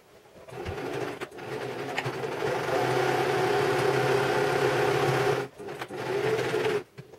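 A sewing machine bastes two layers of fabric together for a therapeutic pillow, running in a steady continuous whir up close for several seconds, with brief pauses near the end.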